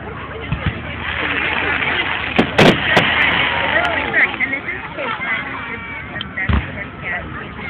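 Fireworks at a fireworks show burst and pop at a distance, a few sharp bangs scattered over a crowd's talk and murmur.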